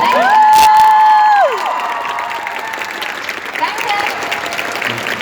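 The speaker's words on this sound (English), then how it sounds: "And a big round of applause for this lovely lady" A convention crowd applauds a panel guest at a comic and pop culture fair, loud dense clapping with some whoops and cheers, a voice briefly talking over the start before the ovation settles into steady, softer clapping.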